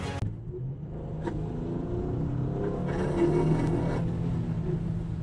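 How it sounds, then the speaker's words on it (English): A car accelerating while its struggling transmission whines, a close, steady low rumble that builds and swells with faint tonal whine layered over it, heard alone without any talk. "whining or grinding noises when you accelerate are usually a clear indication that your car's transmission is struggling"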